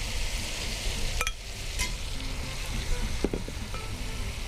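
Cooked, tenderized beef and yogurt sizzle and fry steadily in a pot for pulao, with a couple of sharp metallic clinks from stirring utensils against the pot.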